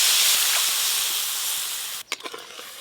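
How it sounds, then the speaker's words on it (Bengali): Water is poured into a pan of sizzling tomato and spice paste: a steady, loud hiss of frying cuts off abruptly as the water hits, followed by a few bubbling splutters and clatters. "এবার জল দেব।"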